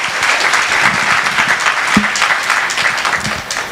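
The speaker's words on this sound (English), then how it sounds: "I think that really deserves another round of applause." Loud, sustained applause from an audience at a community fireside chat, many hands clapping together steadily for a few seconds with a faint voice briefly underneath.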